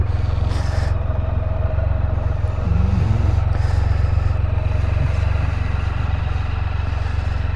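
A Can-Am Spyder F3 with its 1330 engine running steadily at close range, a low, even drone with a faint whirring laid over it and no pauses.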